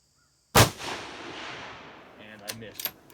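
A single loud rifle shot fired at 10-inch AR-500 steel plates downrange, a sharp crack followed by a long rolling echo, then faint distant metallic pings.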